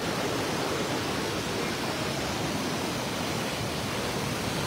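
River waterfall at a fishing spot, a dense, steady rushing roar of falling water, loud and constant from start to finish with no voices.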